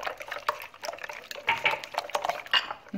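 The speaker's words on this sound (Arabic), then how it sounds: "غنزيدو ربع كاس ديال الزيت الزيتون" Olive oil is poured into a bread dough mixture with mozzarella, giving soft close liquid splashes and glugs mixed with light clinks of a bowl or utensil, with no talking.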